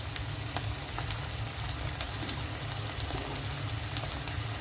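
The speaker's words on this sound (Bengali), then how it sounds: "এইভাবে আমি মশলা পেঁয়াজের সাথে একটু ভেজে নিব।" Spices fry with onion in a pan during a rohu fish and tomato curry, making a steady, close sizzle with faint stirring scrapes throughout and no talking.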